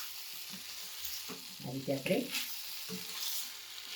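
Fresh turmeric sizzles gently in ghee in a heavy pan over low heat, with soft scraping stir strokes building midway, while a voice speaks briefly over the cooking.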